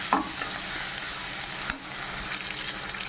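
Tomatoes sautéing in a pan with turmeric and masala powder for a ragi poori potato masala, giving a steady close sizzle with stirring scrapes and a sharp spatula clink partway through, no talking.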